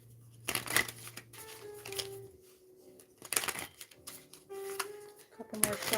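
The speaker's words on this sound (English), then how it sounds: "Couple more shuffles." Tarot cards being shuffled in short bursts of crisp riffling and flapping, three separate rounds close to the microphone, with quiet gaps and soft tones between them.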